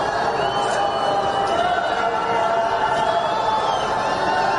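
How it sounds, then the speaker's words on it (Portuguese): A large outdoor crowd at a wreath-laying ceremony for Lula sends up a continuous, loud wash of booing and jeering noise, with voices mixed into the din. "Olha só o momento da vaia aqui"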